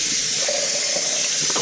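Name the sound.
tap water rinsing a whole raw chicken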